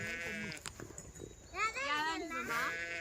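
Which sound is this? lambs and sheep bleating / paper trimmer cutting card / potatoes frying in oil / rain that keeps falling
lambs and sheep bleating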